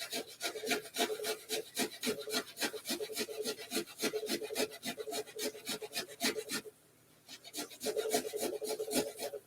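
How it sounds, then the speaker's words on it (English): Fresh ginger rasps against a fine grater in quick, even strokes, a steady rhythmic scraping that pauses briefly before resuming; close and clear with no talk. "I'm going to go ahead and grate this ginger."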